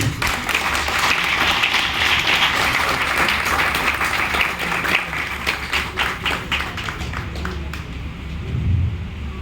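A training-session audience in Gurgaon, Haryana, applauds loudly and continuously. The clapping thins into scattered claps near the end.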